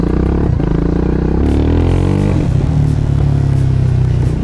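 A TVS Apache RR310 motorcycle with its dB killer removed rumbles loud and close, its raw exhaust note holding a harsh idle, then climbing through a rev and settling back into a gruff, steady drone.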